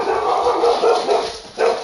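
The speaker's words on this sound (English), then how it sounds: "my dog's going ballistic again" A dog barks and yips excitedly in the hunting game theHunter: Call of the Wild, with a steady run of close, agitated barks over a windy outdoor background.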